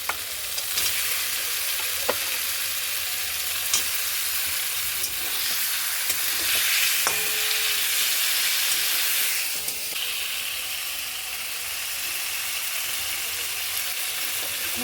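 Koi fish going into a frying pan with tomatoes, giving a loud continuous sizzle and hiss with faint scrapes of stirring throughout.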